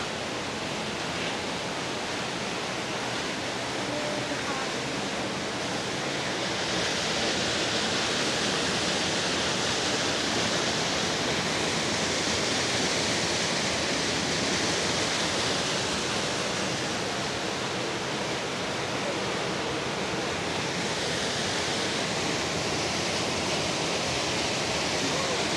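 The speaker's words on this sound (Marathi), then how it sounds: "दोन्ही साईडला दोन्हीकडचं पाणी ते एकत्र खाली पडतं." Water from two valleys plunges together as a waterfall, a dense continuous roar filling the scene and swelling slightly in places, with no speech over it.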